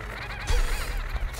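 The Dragonfolly bird boss in Terraria, from the Calamity mod on Master and Death Mode, lets out a loud, warbling, wavering screech that rises and falls over about a second amid game noise.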